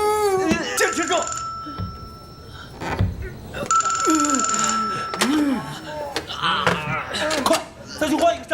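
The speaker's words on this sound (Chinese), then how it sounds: "团长，这墙里好像有个电话。" A telephone rings repeatedly from inside a wall in a wartime film scene set in Shanghai, its bursts of ringing heard clearly amid tense shouting voices.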